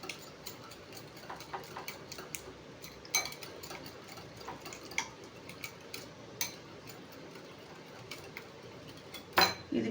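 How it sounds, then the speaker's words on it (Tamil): Jaggery is beaten into vatlappam batter in a bowl, with light, irregular clicks and taps of a utensil against the side, a few sharper knocks standing out over a quiet background. "ஸோ இதையுமே நல்லா பீட் பண்ணி எடுத்துக்கலாம்."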